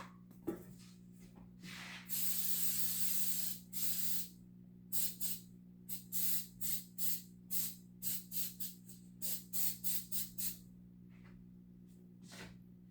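Cooking spray hisses onto a baking pan for banana bread: one long steady burst, then a quick series of short, evenly spaced puffs, close and clear against a low background hum.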